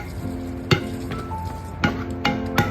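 Close sizzling from a hot pan, broken by several sharp clanks of a spoon scraping and stirring against the metal.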